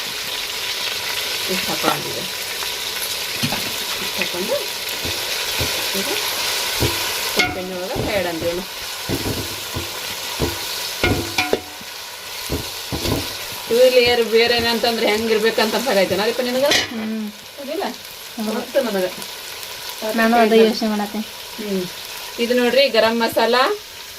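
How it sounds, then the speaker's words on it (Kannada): Onions fry in hot oil for a Bakrid festival dish, a steady close sizzle with stirring scrapes throughout, while someone talks over it in Kannada for much of the clip. "ನಾನು ಉಳ್ಳಾಗಡ್ಡೆ ಹಾಕಿ ಮಾಡ್ತೀನಿ ನೋಡ್ರಿ ಅದು ಚಲೋ ಆಗಿ ಫ್ರೈ ಆಗೇ ಬಿಡ್ತೀವಿ"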